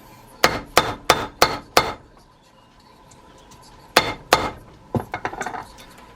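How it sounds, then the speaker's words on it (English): A hammer strikes a rivet down into a leather bike tool pouch: five sharp, evenly spaced metallic blows close up, a pause, then two more strikes followed by several lighter taps. "and then you just hammer it down"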